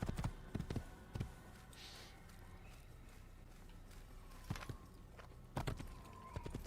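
Horse hooves clip-clopping in Assassin's Creed, a few clustered thuds spaced apart over a low steady ambient bed, moderately close, with no talk.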